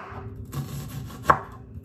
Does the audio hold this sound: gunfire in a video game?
no